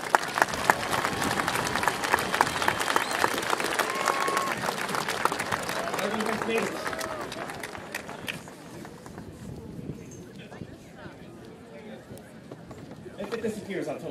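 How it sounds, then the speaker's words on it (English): Applause from a graduation crowd for the school administration and principal, a dense outdoor clatter of many hands that is loudest at the start and thins out after about eight seconds, with wind and murmuring voices underneath. "Let's give an applause to these great people."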